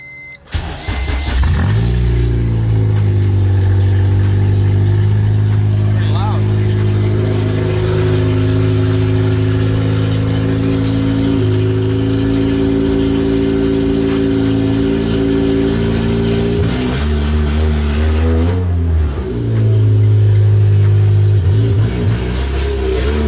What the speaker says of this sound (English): We're gonna start this up and see how she goes.